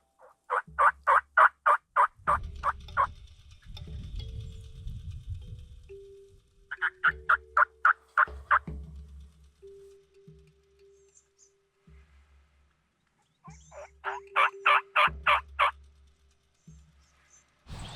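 Rio turkeys in Southwest Texas gobble in three loud, rapid rattling bursts a few seconds apart, with rustling and quieter clucks in between, outdoors with no talking.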